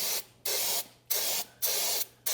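Brake cleaner sprayed from a can into a bucket of water-contaminated hydraulic oil, heard as four sharp, hissing bursts in quick succession, each separated by a short silent gap, close and clear with no talking.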